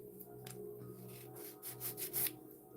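A nail file rubbing back and forth over gel polish on fingernails, a soft, faint, rapid rasping in short strokes close by, over a low steady hum.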